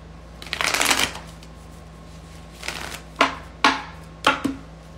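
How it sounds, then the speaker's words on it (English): Tarot cards are shuffled by hand in a quiet room: a long riffling burst, then a shorter one and a few crisp separate snaps of cards squared and tapped, close and fairly loud with a steady low hum behind. "One more shuffle."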